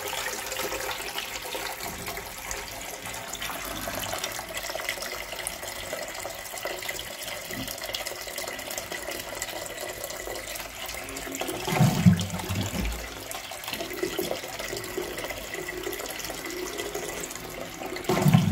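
Armitage Shanks Sandringham Compact close coupled toilet from 1998 being flushed, a long steady rush of water with a surge and gurgle partway through, fairly close, no talk.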